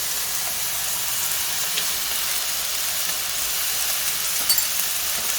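Butter melts and sizzles in a cast iron pan with Brussels sprouts, a steady bright hiss of frying that stays constant and close throughout.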